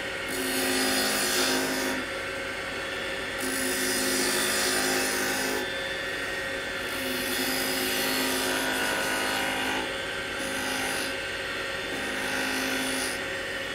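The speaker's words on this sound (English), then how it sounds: "we're going to take a 1/2 inch spindle gouge, and we're just going to make a cove right in the middle of that" A wood lathe turning a napkin ring while a 1/2 inch spindle gouge cuts a cove, giving a steady, close, loud rasping hiss with a constant motor hum that swells and eases as the tool meets the wood.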